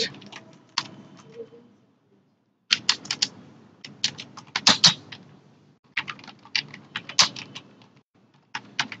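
Bursts of quick, close clicking on a computer keyboard as text is typed, separated by short silent pauses, with the key taps sharp and fairly loud.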